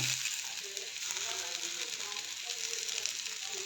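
Carrot and capsicum frying in a pan for upma, a soft steady sizzle with light stirring scrapes throughout.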